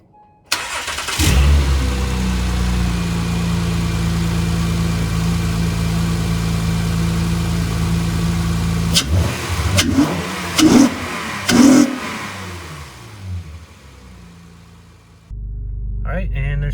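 An Acura MDX engine cranks and starts, settles into a loud steady idle, then revs sharply several times with loud VTEC before easing down and cutting off.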